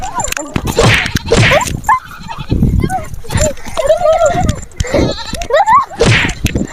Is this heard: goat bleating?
yes